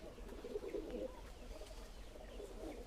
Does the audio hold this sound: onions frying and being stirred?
no